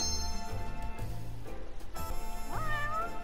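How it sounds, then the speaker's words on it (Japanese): A cat meows clearly over a steady game soundtrack of music and electronic tones in the video game Judge Eyes. "猫の声聞こえる。"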